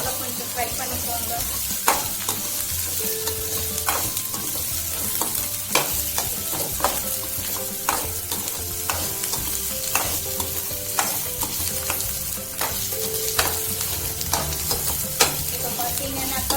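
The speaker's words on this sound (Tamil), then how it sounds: "இந்த இஞ்சி பூண்டு பேஸ்ட் ராஸ்மல் போகிற வரைக்கும் நல்லா கொஞ்சம் ஃப்ரை பண்ணிக்கோங்க" Ginger garlic paste frying in a pan with a steady sizzle, punctuated by frequent clinks and scrapes of a spoon stirring against the metal, with no voices.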